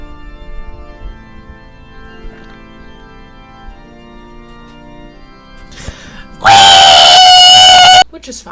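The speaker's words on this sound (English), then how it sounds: "it ended up being 6 or 8 minutes of a cat screaming into the microphone" A cat's loud, shrill scream into a microphone bursts in near the end, sustained for over a second at high volume after a quiet, low stretch.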